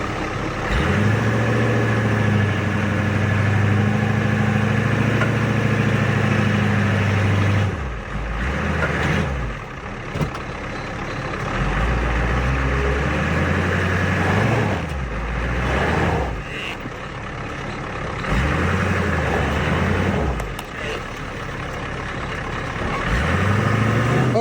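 A stuck truck's engine revs hard in snow, surging and falling in several repeated bursts with brief drops to idle between pushes, loud and close.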